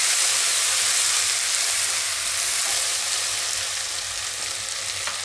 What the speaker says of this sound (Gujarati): આપણે આદું મરચાં ને લસણ એ નાખી દઈશું. અને આપણે મિક્સ કરી દઈશું.